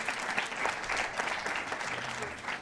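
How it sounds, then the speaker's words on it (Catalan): A studio audience on a Catalan TV word game show applauds a contestant, a dense, steady patter of clapping heard fairly quietly, with a faint voice underneath. "Un aplaudiment per en Nico"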